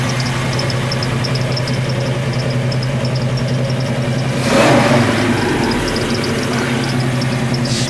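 A 1972 Ford LTD Custom convertible with a 502 engine idles loud and close with a steady rumble, swelling briefly in a short rev midway before settling back to idle.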